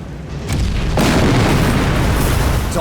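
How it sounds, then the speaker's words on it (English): A huge explosion in the video game Captain America: Super Soldier bursts in with a sharp onset and swells into a loud, sustained rumbling roar of debris that keeps thundering without fading. "It's all coming down. One more explosion should finish it."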